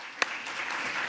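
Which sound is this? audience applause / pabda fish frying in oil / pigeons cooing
audience applause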